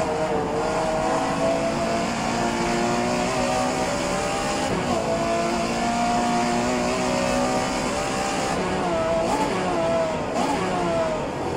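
A Porsche 911 Carrera RSR 3.0 racing car's engine in the game rFactor 2 drones loudly and continuously, its pitch shifting up and down through gear changes over the full stretch.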